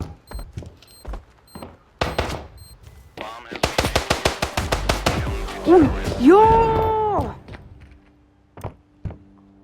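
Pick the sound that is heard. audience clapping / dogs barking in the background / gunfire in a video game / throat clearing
gunfire in a video game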